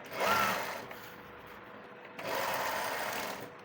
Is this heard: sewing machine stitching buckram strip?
yes